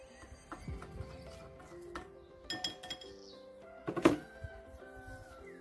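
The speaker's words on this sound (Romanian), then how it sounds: "O să amestec cu cuțitul" A knife clinks against a container while stirring a homemade garlic insecticide mixture with water, giving scattered light metallic taps and scrapes in irregular rhythm, close and fairly quiet, with a louder cluster of clinks near the end.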